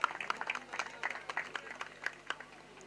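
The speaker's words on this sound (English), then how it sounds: "A huge round of applause." Scattered audience applause for a sponsor called to the stage at a cricket league's final-day ceremony, a few distinct claps rising above a thin, fairly quiet crowd with low murmuring underneath.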